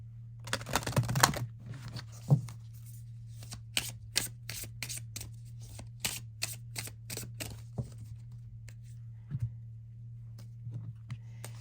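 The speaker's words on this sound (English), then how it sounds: "let's get you a card from the Wicca Oracle cards." Wicca Oracle cards being shuffled and drawn in a quiet room: a quick riffling burst at the start, then a long series of crisp, separate card snaps and flicks with pauses between them, close and clear over a steady low hum.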